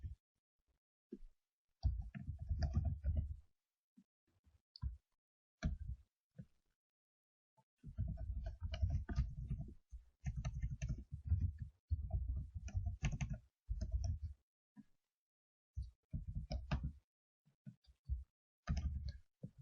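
Bursts of computer keyboard typing, close and quiet, with rapid clusters of key clicks broken by short silences across the stretch.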